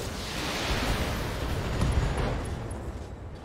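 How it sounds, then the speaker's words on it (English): An ammo explosion in the BattleTech video game rolls out as a loud, sustained rumbling blast that swells and then slowly fades, heard alone. "Hit, hit. Ammo explosion."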